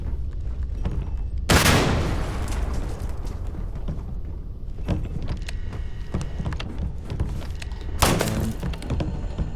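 Two heavy grenade blasts go off in the Starfield video game aboard a ship, one early and one late, each a sudden broadband boom with a decaying tail over a steady rumbling game backdrop.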